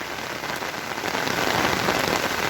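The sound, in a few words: rain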